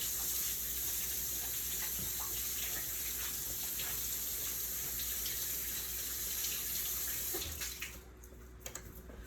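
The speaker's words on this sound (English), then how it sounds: "I'm gonna wash my hands real quick." A kitchen tap runs steadily for several seconds as someone washes their hands before cooking, a faint, even stream of water that cuts off near the end, leaving a few small clicks.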